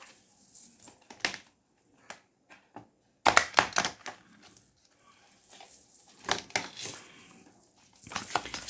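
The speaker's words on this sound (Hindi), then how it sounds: "थोड़ा सा मैं इस तरह से शफल कर लेती हूँ।" Tarot cards being shuffled by hand, with soft riffling clatters and slaps in irregular bursts, close and moderately loud, with brief quiet gaps between handfuls.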